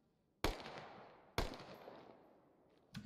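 Two loud single gunshots crack about a second apart in the video game Operation: Nitro, each followed by a long echoing decay, then a fainter third shot at the end, with no talk.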